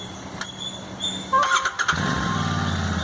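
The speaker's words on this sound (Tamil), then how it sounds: "அஸ்வினோட வண்டி ஃபர்ஸ்ட் டைம் ஸ்டார்ட் பண்ண போகிறாரு." Royal Enfield Interceptor 650 motorcycle starting for the first time: a short cranking whir, then the engine catches and settles into a steady idle, close by and moderately loud, with no talk.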